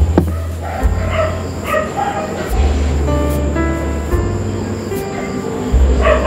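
Several dogs bark in repeated bursts, fairly close, over a constant low rumble and a faint high tone in the background.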